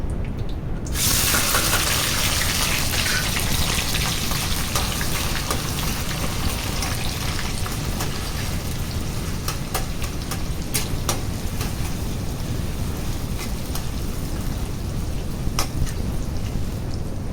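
Onions hit hot oil with curry leaves for beef sukka, bursting into a loud, dense sizzle that starts abruptly and then crackles steadily and close, with scattered spitting pops.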